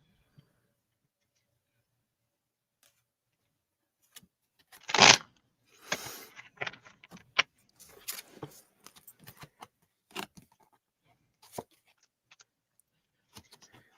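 Crisp riffling and snapping of stiff, brand-new playing cards being shuffled, in short irregular bursts separated by quiet gaps.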